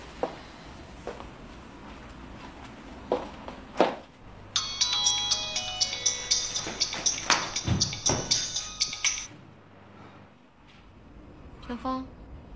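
A phone rings with a repeated bright electronic ringtone for several seconds during a quiet indoor scene, after a few soft knocks and before a brief short tone near the end.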